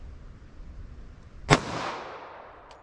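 A single sharp gunshot from a .45 ACP Glock 41 pistol with a 5.3-inch barrel cracks out mid-clip, followed by a decaying echo over faint background hum.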